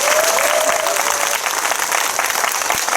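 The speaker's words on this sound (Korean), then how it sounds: "큰 박수 부탁드리겠습니다" Sustained audience applause fills a cinema hall at a film Q&A event for the Korean movie Deliver Us From Evil, with dense, even clapping that stays loud and steady throughout, without talk.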